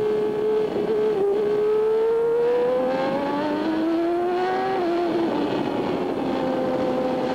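Formula 1 engines screaming around the Barcelona circuit at the Spanish Grand Prix, a steady high whine rising in pitch then dropping as cars pass, loud and continuous with no voices.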